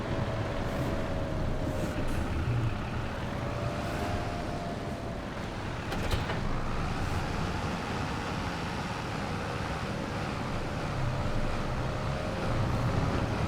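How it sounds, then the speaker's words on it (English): A tractor engine idles in Farming Simulator 25 on a farm, a steady low drone running continuously throughout at moderate loudness with a faint pitch wobble. "we'll keep the engine running because we're going to be over here to unload a few times."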